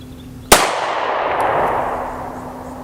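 A single loud, close shot from a Beretta APX A1 Carry pistol cracks sharply and leaves a long ringing decay and a faint metallic ping, with no voices.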